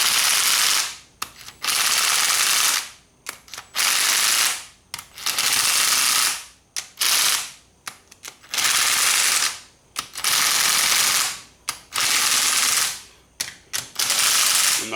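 Impact wrench tightening bolts on a Banshee Cool Head, the trigger feathered partway so it fires in a series of loud, rattling hammering bursts of a second or so each, separated by short pauses.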